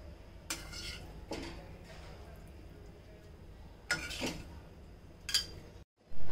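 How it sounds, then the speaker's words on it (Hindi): Veg crispy being scooped from a pan into a serving bowl, with several short metallic scrapes and clinks of utensil against cookware spread through otherwise quiet kitchen ambience. "क्रिस्पी को हम अब एक सर्विंग बॉल में निकाल लेंगे।"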